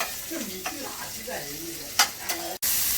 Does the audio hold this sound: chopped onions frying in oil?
yes